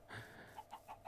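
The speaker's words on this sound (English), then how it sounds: "Found some chickens." Chickens in the Minecraft video game give a few quiet, short clucks in quick succession, faint and alone.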